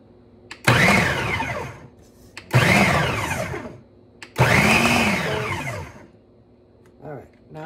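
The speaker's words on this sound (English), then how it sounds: "So we're just gonna put the top on and turn on the machine" A kitchen blender pulsed three times while preparing chicken satay rangoon, each loud whirring burst lasting about a second or two and separated by short pauses.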